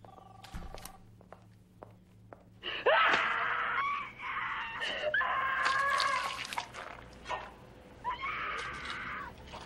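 A loud, rising wail of a scream in a crime-drama TV scene, bursting in after a quiet stretch and running on in several sustained, wavering bursts with sharp high cries layered over a noisy background.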